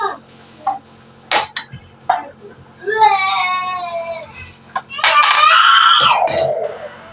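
A young child screams at home in two loud, close, drawn-out bursts, separated by shorter sharp yelps and light household clatter.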